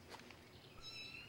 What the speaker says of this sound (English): Hey, what's that? Sounds like kittens.